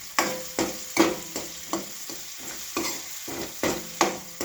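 Food fries in a pan for a gravy, browning as it is stirred: a steady sizzle broken by about ten rhythmic scraping strokes, close and fairly loud, with no voices.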